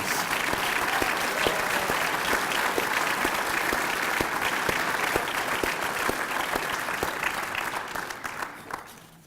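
An audience at a community achievement awards ceremony applauds the award recipients, a dense, steady wash of many hands clapping that holds loud for several seconds, then gradually thins and fades out near the end.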